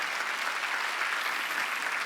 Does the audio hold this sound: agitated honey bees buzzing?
no